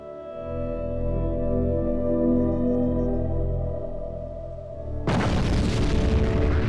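An artillery shell from an enemy arty player in World of Tanks explodes as one loud, sudden boom with a broadband crash, after several seconds of steady low tank engine drone.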